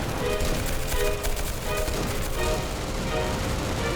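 Dense, rapid gunfire from the Roblox game RE:Infected crackles continuously in a loud, busy barrage, with bursts overlapping and no pauses.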